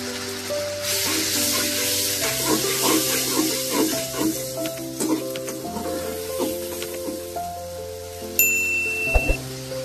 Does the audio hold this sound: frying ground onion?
yes